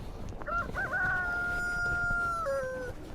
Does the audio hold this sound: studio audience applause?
no